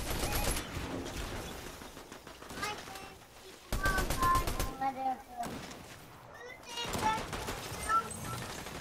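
Gunfire in Fortnite Zero Build squad play rattles off in repeated bursts and single shots, mixed with game effects and beeps. Players talk over the shooting.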